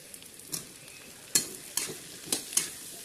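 Cut okra pieces frying in a pan for a home-style okra fry, a low continuous sizzle broken by several crisp spatula scrapes and taps, close up with no talking.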